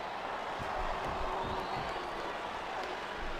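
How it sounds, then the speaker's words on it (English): Crowd noise from a WWE SmackDown vs Raw wrestling video game, a faint steady roar of cheering with scattered thumps, fairly distant and continuous. "I love hearing the crowd come alive"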